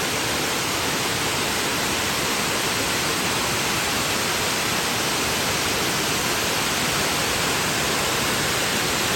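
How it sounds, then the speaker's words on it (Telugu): A forest waterfall roars as a dense, unbroken wash of falling water, loud and close, constant throughout with no voices. "ఎంత బ్యూటిఫుల్గా ఉందో ఈ వాటర్ ఫాల్ అయితే చూడండి."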